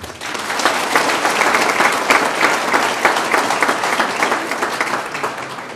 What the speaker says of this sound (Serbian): Ja bih jednim gromkim aplauzom još jedan put iskazao našu srdačnu dobrodošlicu.